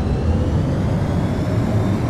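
A steady, loud roar of an F-22 jet engine at full throttle in the Prepar3D v4.5 flight simulator, continuous and unchanging throughout.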